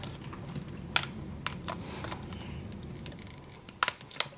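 Plastic part of a Deluxe Titano Charge Power Rangers Megazord toy snapping into place: a few sharp, close clicks scattered over a quiet background, with a small cluster of snaps near the end.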